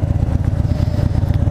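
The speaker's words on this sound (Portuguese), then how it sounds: "Esse é o motor que eu acho mais bonito, o barulho da Harley" A 2013 Harley-Davidson Fat Bob, sharing the Fat Boy's engine, rumbles loud and close with a deep, uneven throbbing idle pulse and no talking.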